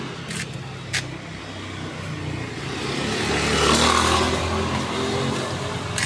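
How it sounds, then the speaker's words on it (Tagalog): A motorcycle engine drones on a road, rising in loudness as it draws closer and passes nearby, with steady road rumble underneath and no voices. "May motor ka, tabi."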